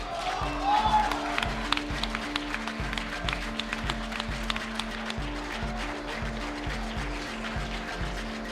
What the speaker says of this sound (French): Je crois qu'on peut les applaudir une deuxième fois.